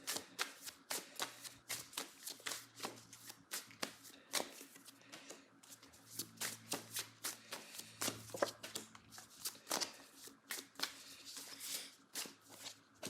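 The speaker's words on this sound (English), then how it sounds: "let's pull some more cards" Tarot cards being shuffled by hand during a reading, a steady run of quick papery riffles and slaps close up, repeating throughout with a faint low hum beneath.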